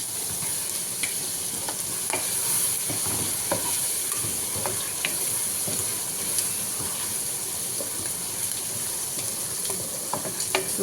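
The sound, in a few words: stirring frying prawns and potato biryani in a pan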